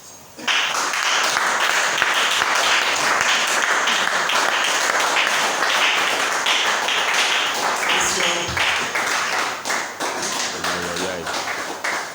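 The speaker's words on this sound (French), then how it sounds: "Est-ce qu'il y a quelqu'un qui peut mieux acclamer pour Jésus?" A church congregation applauds and cheers for Jesus, a dense, sustained wash of clapping that starts abruptly and holds loud throughout, with voices mixed in.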